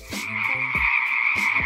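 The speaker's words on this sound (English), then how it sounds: "6 new species of rain frog have been found." A rain frog from the eastern slopes of the Ecuadorian Andes gives a short, loud, nasal croaking call, a sustained buzzing tone broken by rapid pulsing clicks, close and alone.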